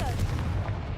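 A Confringo blasting spell goes off in Hogwarts Legacy as a short, dense low boom with a steady rumbling body, heard alone and fairly loud.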